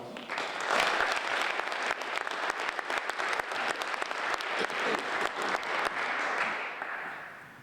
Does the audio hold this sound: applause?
yes